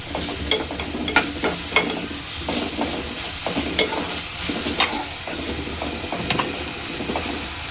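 Onions sizzle in a pan with salt for egg biryani, close and steady. A spatula stirs them, scraping and clicking against the pan in an uneven rhythm over the frying hiss.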